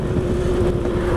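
A motorcycle cruising after being shifted into sixth gear, its engine holding a steady, loud drone with a constant pitch, mixed with rushing wind over the brief stretch.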